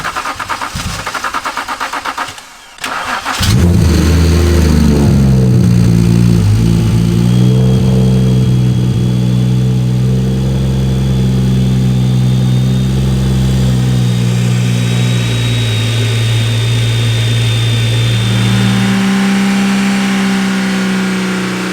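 A single-turbo BMW 335i cranks to life and then holds a steady mid-range rev at partial throttle, loud and close, with a droning engine note and a shift in pitch near the end.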